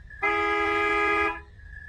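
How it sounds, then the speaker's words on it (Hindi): A sharp bus horn gives one steady, loud, bright honk lasting about a second, clear and close, over a quiet low background hum with no voices. "तभी एक तीखी बस की हॉर्न ने उसकी सोच को काट दिया।"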